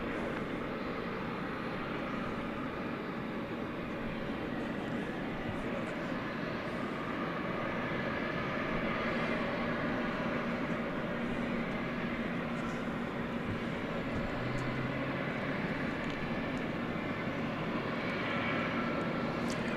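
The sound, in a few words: Boeing 767 jet at DFW Airport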